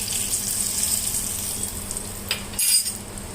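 Dried red chillies sizzle in hot oil as a tempering for Telangana pachi pulusu, a steady close frying hiss with a brief stir or clink near the end.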